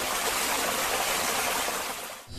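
Steady, soft rushing of rippling water, continuous and even throughout, briefly dipping just before the end.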